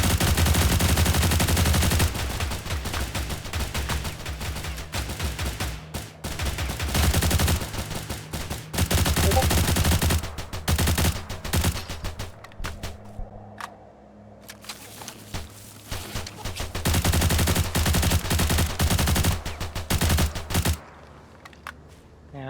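Sustained gunfire from a firefight with bandits in the shooter game STALCRAFT, loud and dense with rapid bursts and single shots nearly throughout, briefly thinning midway before heavy shooting resumes.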